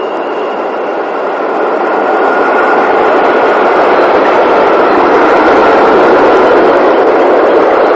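A loud, steady rumble of an English Electric Type 4 (Class 40) diesel locomotive passing close by through snow-covered fields, building slightly and holding constant throughout.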